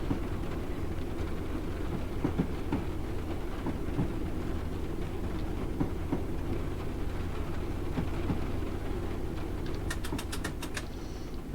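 A Class 156 diesel multiple unit running between Lowestoft and Norwich in Train Sim World 2021, a steady low engine and wheel rumble with continuous track noise, ending in a short burst of rapid clicks.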